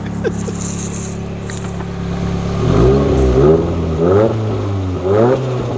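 A 1990 Nissan 240SX with a turbocharged SR20DET engine idles, then revs up in several rising and falling pulls, loud and close, each blip climbing in pitch before dropping back.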